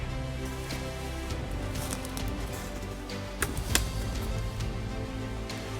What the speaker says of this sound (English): weather conditions certainly weren't favorable. Heavy rain, cold weather today.